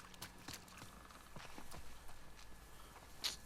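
Horse hooves clip-clopping at a slow walk in The Last of Us 2, a soft, evenly spaced series of steps, fairly quiet.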